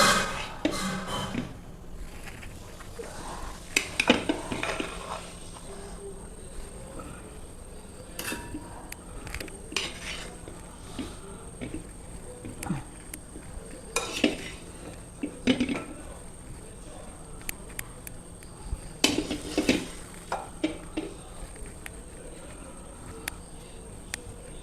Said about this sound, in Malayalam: നമുക്ക് ഇടിച്ചു വെച്ച കപ്പ ഇറച്ചിയിലേക്ക് ഇട്ട് കൊടുക്കാം